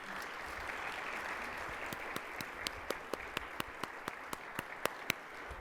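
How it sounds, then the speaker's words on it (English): Audience applause for panelists at a forum on children's mental health, a steady wash of many hands clapping throughout, with a few sharper, closer claps standing out near the end. "Let's give them a round of applause."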